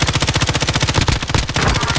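Rapid automatic gunfire in a video game, a steady loud stream of closely spaced shots with a brief break partway through before firing resumes.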